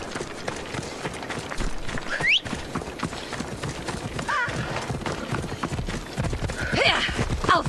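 Rapid hoofbeats of a galloping horse in the video game Assassin's Creed Odyssey pound steadily throughout, with a couple of horse whinnies rising over the rhythm and a busy, loud backdrop.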